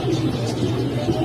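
Pigeons and doves at the Kaptan Bazar pigeon market in Bangladesh make low, repeated throaty cooing that overlaps continuously in a busy, close setting.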